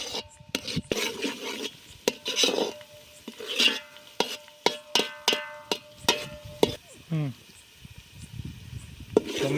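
Green chillies and onions fried in a pan for an aubergine bharta are stirred with a utensil, giving a run of sharp scraping clinks against the metal over a steady sizzle, close and fairly loud, with brief muffled voice sounds between strokes.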